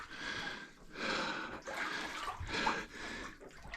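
Wading knee-deep through cold water in an old New Zealand gold mine gives repeated sloshing splashes with each step, close and soft, mixed with heavy breathing.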